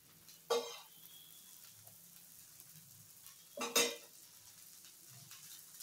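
A bread slice toasting in a little oil on a pan gives a faint, steady sizzle with two sharp metallic clanks of a utensil against the pan as it is flipped, and no talking.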